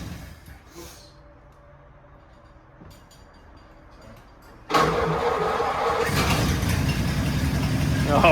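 Engine of a 1937 Nash car idles quietly at first amid faint talk, then surges loud and rough as it is revved during a transmission test, holding a steady roar to the end.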